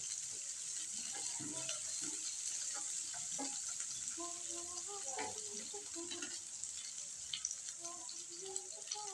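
Onion and capsicum slices sizzle while being sautéed in a pan for chilli paneer, a faint, steady frying hiss with scattered small crackles and light stirring clinks throughout.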